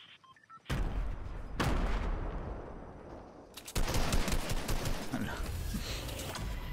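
Fortnite gunfire: sudden loud bursts of rapid shots, including a dense sustained volley in the second half, close and harsh.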